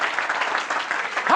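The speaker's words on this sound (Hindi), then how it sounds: "उसके जलाल के लिए जोरदार तालियां" A church congregation gives loud, dense applause during an Urdu sermon, with the sustained clapping filling a short stretch close by and no clear talking over it.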